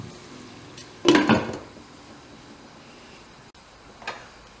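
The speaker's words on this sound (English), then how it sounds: "Put the lid back on" A metal lid clatters back onto a pot of mussels cooking on the stove, one short rattling clank followed by a soft knock, over a low steady kitchen background.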